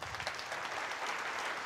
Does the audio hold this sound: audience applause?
yes